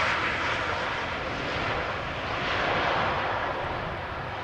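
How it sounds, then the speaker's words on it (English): A KLM Embraer 190 jet landing at Schiphol airport, arriving from Prague, produces a steady broad engine roar that holds evenly and fairly distantly throughout, with no voices. "So this is an Embraer 190 from KLM arriving from Prague by the looks of it."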